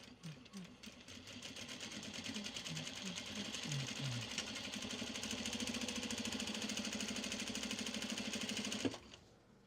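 A sewing machine stitches fabric for a tote bag with a fast, even mechanical whir that runs steadily for several seconds and then stops abruptly; a few faint thumps of fabric handling come at the start.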